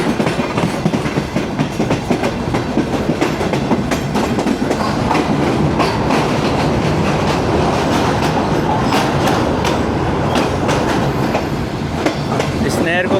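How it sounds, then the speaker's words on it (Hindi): The refurbished Pak Business Express passenger train runs on rails near Kotri Junction, with a loud, steady rumble and rhythmic clickety-clack of wheels over rail joints heard from on board, continuous throughout. "और कोटरी जंक्शन की हदूद में दाखिल हो गई है हमारी 33 अब पाक विस्टेज एक्सप्रेस"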